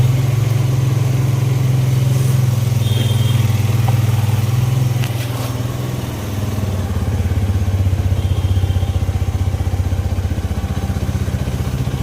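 A two-wheeler engine runs steadily at idle outside a temple in Rangavanahalli, Davanagere, a low continuous throb holding for the whole stretch with a slight dip midway, close and loud with no voices.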